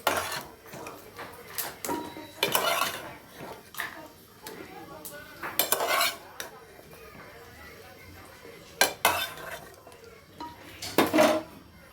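Dried red chillies tempered in oil are tipped from a small pan into a vessel of chickpea sundal, with scattered metallic clanks and scrapes of utensils against pots under quiet talk.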